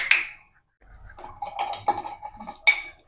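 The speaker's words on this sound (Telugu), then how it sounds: "మనం పొయ్యి మీద గిన్నె పెట్టేసుకుందాము." A cooking pot being set onto a home kitchen stove gives a sharp metallic clank at the start, followed by softer scraping and knocks of cookware and another bright clink near the end, with no talking.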